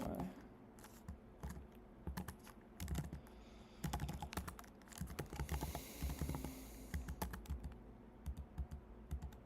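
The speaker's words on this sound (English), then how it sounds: "I'm gonna go back to what I was typing" Someone types on a computer keyboard while coding, producing a long, continuous run of quick, close key clicks with brief pauses and small bursts.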